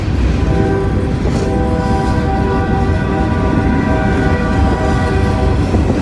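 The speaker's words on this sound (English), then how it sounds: "Check out the locomotives on the head of this one." A loud freight train with locomotives at its head passes close by, its heavy rumble and steady rolling roar continuous throughout, with no one speaking.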